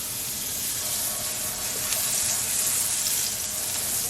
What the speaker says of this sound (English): I'm gonna go ahead and put some butter down into our cast iron skillet